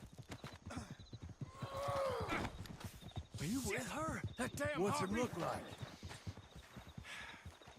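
Horse hooves clip-clop steadily in the Red Dead Redemption 2 video game, a continuous mid-level rhythm under loud overlapping voices, with neighs and whinnies rising through the middle.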